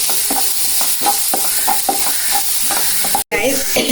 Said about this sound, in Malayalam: ഇനി നമ്മൾ മിക്സ് ചെയ്ത് വെച്ചേക്കുന്ന നമ്മുടെ ആ അരപ്പ് അത് ഇട്ട് കൊടുക്കാം